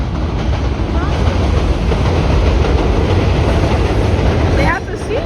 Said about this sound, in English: And here comes the Wakefield train.